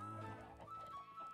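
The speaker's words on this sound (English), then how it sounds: "Chickens." Chickens cluck in the farming video game All of Fabric 3, a brief cluster of soft clucks and calls that is quiet and heard alone.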